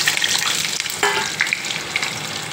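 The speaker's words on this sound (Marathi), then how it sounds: "तेल गरम झालं आहे, आता मी त्यात टाकतो बटाटे" Potato halves frying in hot oil give a steady, close, dense sizzle with a few brief crackles and pops throughout, and no one speaking.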